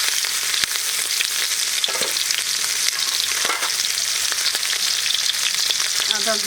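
Shrimp frying in hot oil in a village kitchen, a steady dense sizzle filling the whole clip with a few soft stirring knocks, close and loud, no talking.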